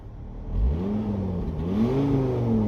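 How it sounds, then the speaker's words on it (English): A Volvo engine with a suspected knock revs up and holds high, a loud rising and falling mechanical drone with clattering undertones close by. "Elliot, rev it again"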